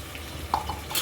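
A spoon stirring onions, green chillies and ginger garlic paste in a pan, a few soft scrapes and metallic clinks over a low background sizzle, close and quiet.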